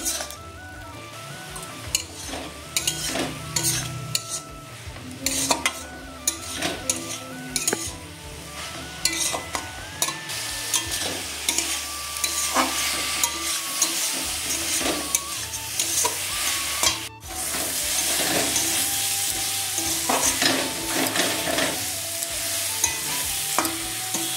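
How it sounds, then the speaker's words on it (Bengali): Bathua greens sizzle steadily as they fry in a pan while a utensil repeatedly scrapes and stirs, clinking against the metal in an irregular rhythm. "শাক ভাজাটা হয়ে গেছে।"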